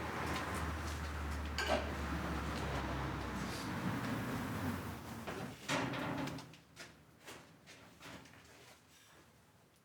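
Car bumpers and a front grille for a Renault 5 Campus come out of a cardboard box, with close scraping, sliding and rustling of cardboard and plastic parts, a few knocks, then quieter handling toward the end, no talking.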